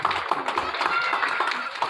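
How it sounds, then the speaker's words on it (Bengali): An audience claps together at an award ceremony for an abacus maths competition at the Institution of Engineers, Kakrail, Bangladesh: a dense, steady patter of many hands throughout. "একদম জোরে একটি করতালি জানাতে চাই"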